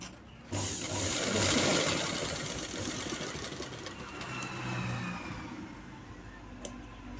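A sewing machine stitching night pants runs in a steady fast whir close by, holding continuously for several seconds before slowing near the end.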